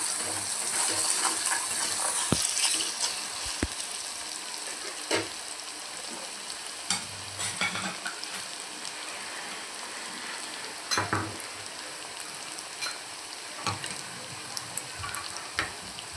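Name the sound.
sautéing onion in a pan for zunka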